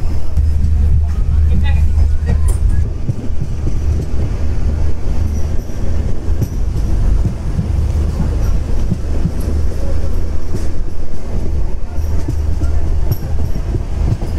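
A tourist special train with a Vistadome coach slowing on its approach to Rajabhatkhawa station in the Dooars, a heavy continuous rumble of wheels on rails with faint squeals and clatter, loud and close.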